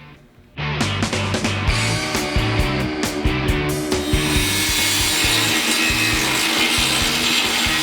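Spot welds being cut out of an EK Honda Civic body during a K20 engine swap. After a brief quiet start, a loud power tool grinds and chatters in a pulsing rhythm, close by and without talk.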